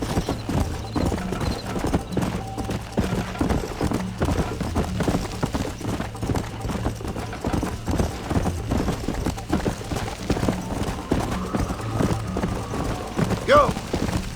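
Horses gallop with steady clip-clop hoofbeats throughout a Red Dead Redemption ride, under music and occasional spoken voices, with a brief whinny near the end.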